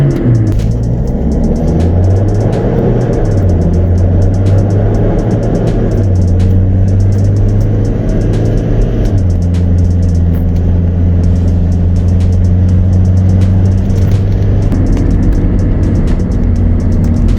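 Toyota Innova Touring Sport with a 2.8L diesel engine and automatic transmission, revving in a brake-held stall test: a loud, continuous low droning hum that steps up in pitch and holds, with no speech heard.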